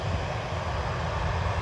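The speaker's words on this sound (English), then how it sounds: "It's a Southwest plane." Southwest Airlines jet passing over Hobby Airport in Houston, a low continuous rumbling roar heard from a distance, steady and moderately quiet with no speech.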